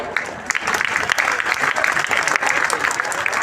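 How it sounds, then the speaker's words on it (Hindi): A crowd at an outdoor poetry gathering claps together, loud, dense and sustained, with crisp overlapping claps throughout. "अच्छा बजाना है तो एक साथ ताली बजाओ।"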